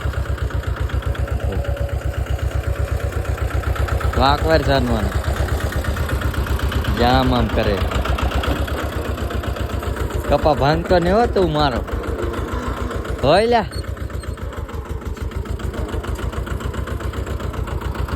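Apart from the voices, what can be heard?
tractor engine running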